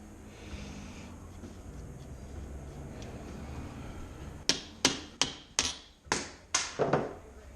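Hammer striking a socket to pop out parts on a RockShox Psylo suspension fork, seven sharp metallic taps in a steady rhythm after a stretch of low background rumble, close and distinct.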